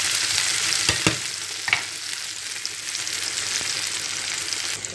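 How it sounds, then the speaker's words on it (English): Onion and white bell pepper fry in a pan with a steady broadband sizzle throughout, broken by a few brief louder crackles and stirring scrapes near the start. "after adding the onion, I will be adding my white bell pepper. I'll turn everything together and let this go fry."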